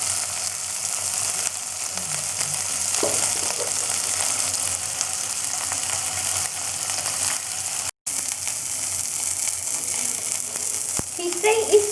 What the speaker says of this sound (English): Fish fry is done